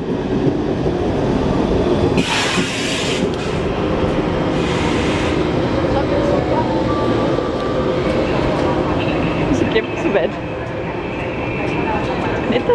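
Train passing at a station in Munich: a loud, continuous rumble of rail cars with a brief high squeal of wheels, while people talk and call out over it.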